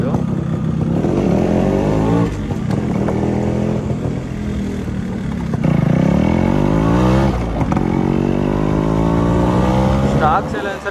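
A Yamaha RX135 four-speed motorcycle with a long inbuilt stock silencer revs up loudly and repeatedly, its pitch climbing and falling in sweeping pulls while someone talks over it.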